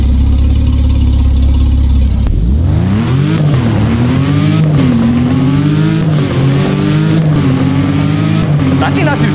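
A W Motors supercar engine in the Roblox-style driving game Driving Empire idles low, then revs up hard in repeated rising sweeps, loud and close, with short dips between pulls.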